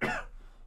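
A single close, fairly quiet cough, sharp at the start and trailing off quickly, with no other sound around it.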